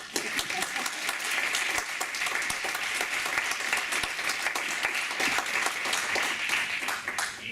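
Audience at a Spanish-language talk on new technological tools for research gives steady, moderately loud applause, dense clapping held evenly for several seconds with no talking.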